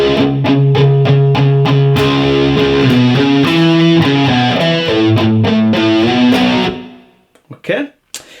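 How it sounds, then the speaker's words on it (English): Distorted electric guitar with a slowly sweeping flanger plays the opening section of a song, loud steady picked notes under a swirling whoosh, then cuts off, followed by a few faint trailing sounds. "that whole opening section with the flanger slowly sounds like this"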